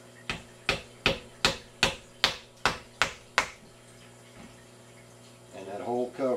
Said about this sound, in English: I should just be able to take this dinky ass screwdriver. And just go tap tap like this.